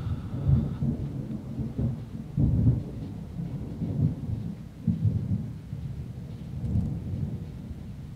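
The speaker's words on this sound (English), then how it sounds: "I'm being treated to a thunderstorm right now, so you can hear that in the background." Low thunder rumbles and rolls in repeated swells over a steady rain-like hiss, distant and heavy, with no voices.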